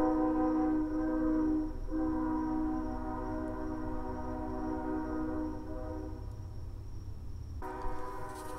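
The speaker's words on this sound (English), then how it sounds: "The train's still going." A passing train in the opening of the film Batman v Superman: Dawn of Justice sounds a long, sustained horn over a low, steady rumble, holding for most of the stretch before the tone cuts off near the end.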